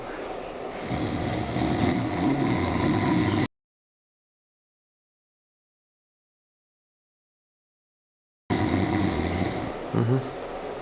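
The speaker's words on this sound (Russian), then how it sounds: "Давайте, храпите." Snoring from a person on request, heard as rough breathy rasps in two bursts separated by several seconds of complete silence, close and moderately loud with brief vocal sounds near the end.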